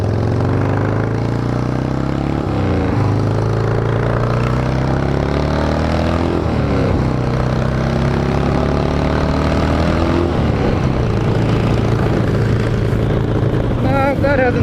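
A 1976 Harley-Davidson Ironhead motorcycle engine runs loud and close, its deep rumbling note climbing in pitch three or four times as the throttle opens and then settling back, with faint voices mixed in.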